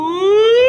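A voice imitates a wailing hurricane siren, a single loud rising tone held steadily for under a second.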